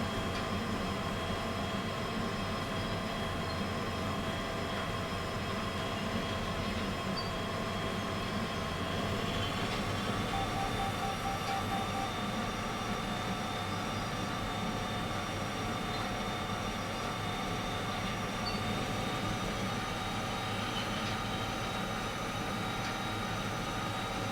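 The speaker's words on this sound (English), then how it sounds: "this is more or less on the limit for these 2 locos right now." Two locomotives in the railway game Derail Valley labour to haul a heavy train, giving a steady, continuous engine drone with a high whine laid over it, unbroken and with no talking for about twenty-four seconds.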